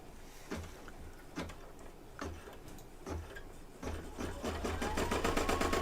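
An embroidery machine stitching barn wood details in the hoop with black thread ticks in slow, regular needle strikes, then speeds into a faster, denser run toward the end, moderately close and soft, no talking.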